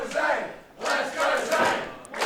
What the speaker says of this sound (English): We get the crowd singing, "Let's go, Zane."